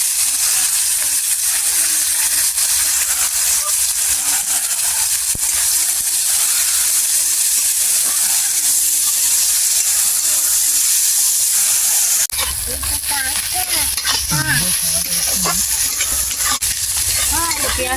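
Sliced onion added to hot oil with dried red chilli sizzles and hisses loudly and steadily in a pan, with a voice speaking over the frying in the later part.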